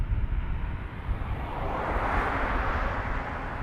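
A plane takes off from runway 28 right at Dublin Airport, a distant broad jet roar swelling steadily over wind-buffeted background noise.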